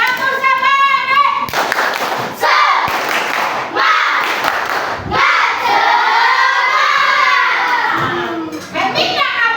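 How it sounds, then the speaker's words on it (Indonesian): A group of children claps in rhythmic bursts during a classroom spirit-clap chant, their voices chanting along between the loud, sharp clap volleys. "Sebelumnya kita tepuk semangat lagi yuk"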